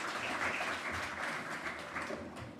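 Audience applause for a local councillor at a school governing body election launch by an MEC, a dense steady patter of many hands clapping throughout, fairly loud and continuous with no speech over it.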